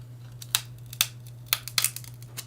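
Leftover pieces of a Nintendo console screen polarizer snapping and cracking in sharp, brittle clicks, about six irregular close snaps over a low steady hum, with no talking.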